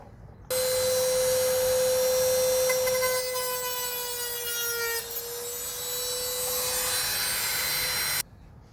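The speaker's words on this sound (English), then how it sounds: "I'm just going to trim this bit of N gauge track up into a sort of shorter section" Cutter trimming a length of N gauge model railway track, a sustained squealing tone with a bright ringing scrape that holds steady for several seconds, close and alone.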